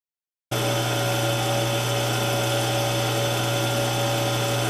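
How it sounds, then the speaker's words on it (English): A metal lathe turns bar stock while the crossfeed is advanced by hand, giving a steady, close, continuous whine with a low hum and fine cutting grit that starts abruptly and holds throughout. "chuck them in the lathe, and see if I can make something out of this"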